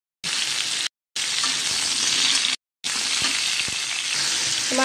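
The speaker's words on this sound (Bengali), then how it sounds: "এবার দিয়ে দেবো পটলগুলো ভেজে নেবো তেলের মধ্যে" Pointed gourd (potol) and potato pieces fry in hot oil with a loud, dense, continuous sizzle that breaks off abruptly twice.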